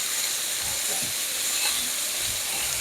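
Chopped steak patties sizzle in a frying pan, a steady loud hiss filling the whole stretch with faint low bumps underneath, close and continuous with no voice.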